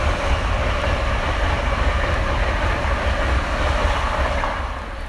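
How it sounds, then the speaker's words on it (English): A train rumbles steadily past nearby, a continuous heavy roar with faint clattering that begins to fade toward the end. "That's the train past."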